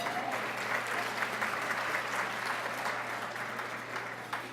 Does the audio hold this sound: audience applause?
yes